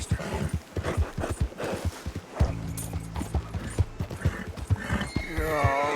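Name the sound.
horse hooves in Red Dead Redemption 2 video game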